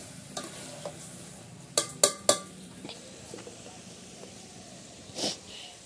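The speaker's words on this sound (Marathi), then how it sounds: "आता हे ढवळून घ्यायचे बघा." Mango pieces are stirred into a bowl of mango raita, giving a few sharp wet clinks and scrapes of a spoon against the bowl over a quiet background.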